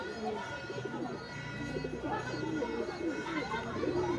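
Low, rolling coos from a female pigeon kept in a cage layer over each other in a steady, busy stream, with other birds calling nearby and a voice murmuring faintly beneath.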